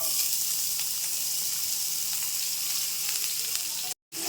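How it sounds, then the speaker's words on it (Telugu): Finely chopped onions fry in a pan for a mushroom masala curry, giving a loud, steady, close sizzle with faint stirring, cut off by a brief silence near the end. "ఒక 2 ఆనియన్స్ ఇలా సన్నగా చాప్ చేసుకొని ఇందులో వేసుకుందాం"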